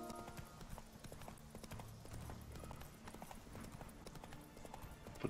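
Roach the horse gallops in The Witcher 3, hooves clip-clopping in a quick rhythmic patter at moderate distance over a faint game background, with scattered clatter.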